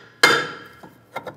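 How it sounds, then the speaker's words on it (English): A hammer strikes a brake rotor on the rear hub of a 2003-2008 Infiniti FX35 to knock it loose: one sharp, ringing metallic hit, then a few lighter taps, close up. "Using a hammer, just tap in these areas right here"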